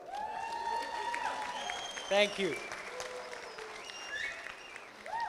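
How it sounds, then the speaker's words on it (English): Wedding guests applaud steadily throughout as a continuous crowd clapping, with a short louder swell midway and someone speaking briefly over it. "can I get a round of applause?"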